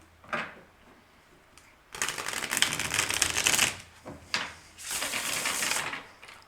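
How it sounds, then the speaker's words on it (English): Playing cards shuffled by hand in two bursts of riffling, each a dense crackling flutter lasting a second or two, with softer handling taps in between, close and fairly quiet. "I want to shuffle"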